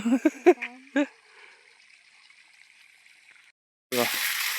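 Water splashes steadily onto plants in a home garden for the last second, after a few short knocks and voices near the start.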